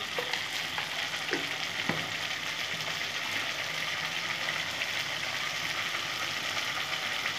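Spice paste of boiled garlic and onion with cumin powder fries steadily in a pan for an egg curry, a continuous close sizzle with a few soft stirring scrapes near the start.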